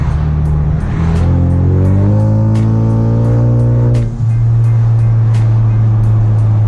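A Ford Mustang EcoBoost fitted with an Airaid cold air intake accelerates hard in sport mode, its loud engine note climbing steadily in pitch before dropping sharply at an upshift and settling into a steady drone, recorded from inside the car.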